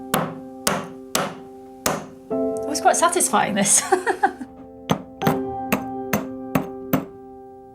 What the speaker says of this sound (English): Hammer it until it gets smaller and smaller.